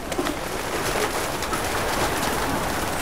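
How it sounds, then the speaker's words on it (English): Pigeons coo steadily at a guesthouse where birds are being fed, a dense, continuous murmur of many birds close by with no talk over it. "And a plethora of pigeons."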